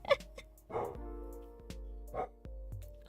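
Small pet dogs bark and yip indoors in the background of a room, a few short sharp barks spaced out over a steady low hum.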